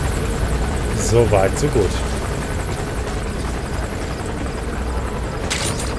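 Helicopter in Metal Gear Solid V: The Phantom Pain, a steady droning rotor wash filling the background throughout while someone speaks briefly over it near the start.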